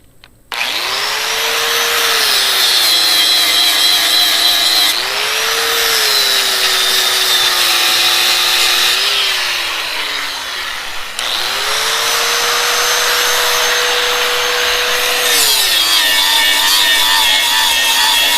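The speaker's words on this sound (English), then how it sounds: "Good old grinder, dewalt." A DeWalt grinder powered from a portable power station runs loud and close with a high whining motor, spinning up and down in several long bursts over about eighteen seconds.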